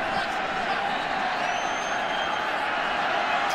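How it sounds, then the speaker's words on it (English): A football stadium crowd at a 2018 Rams vs Raiders NFL preseason game keeps up a loud, steady roar of cheering without a break. "Crowd's into it."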